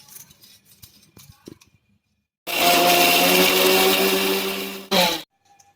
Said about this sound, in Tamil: இந்த மசாலாவை நல்லா பேஸ்ட் பண்ணிட்டோம்.